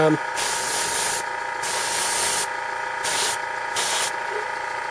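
Spray primer hisses in several short bursts onto the rim of a miniature base, each burst loud and close with brief gaps between, over a steady background hum.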